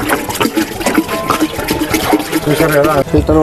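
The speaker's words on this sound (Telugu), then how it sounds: "ఫిల్టర్ వాటర్ తీసుకొచ్చి ఇలా నింపుతాను." Filtered water is poured into a clay pot used as a village fridge in Chandlapur, Siddipet, Telangana, a close, continuous gurgling fill beneath a person talking.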